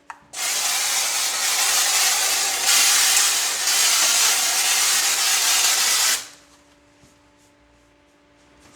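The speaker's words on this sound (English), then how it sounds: "Let me spray it" A DAP texture spray can hisses in one steady, loud burst for about six seconds as it sweeps back and forth, then cuts off, leaving a quiet room with a faint hum.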